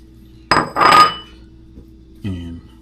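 A handful of chocolates dumped into a mixing bowl for black cocoa banana bread makes two quick close rattling clatters, then a brief ringing knock against the bowl, with quiet gaps between.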